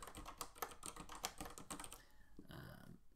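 Fingers type a team name on a computer keyboard in a quick burst of close, soft key clicks, then slow to a few scattered taps before stopping, with no voices.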